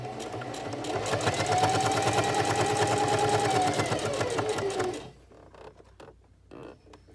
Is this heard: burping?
no